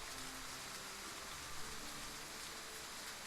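Steady rain falling in a video game scene, a dense even hiss throughout, faint and without voices.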